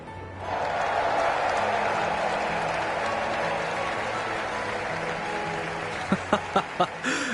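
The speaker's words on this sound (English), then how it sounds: "let us shower these victors with thunderous applause" Crowd applause rises and holds as a broad, steady roar in the video game Trails in the Sky, with a low musical tone beneath and a few sharp thuds near the end.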